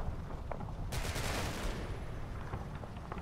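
Gunfire in a Combat Mission: Battle for Normandy battle, a sudden dense burst of rapid shots opening at about one second and crackling on before thinning into scattered reports over steady low rumbling ambience.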